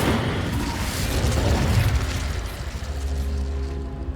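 An Incendio fire spell is cast in Hogwarts Legacy: a loud whooshing roar of flame with a rumbling low burst that swells, then fades into a softer crackling, lingering tail.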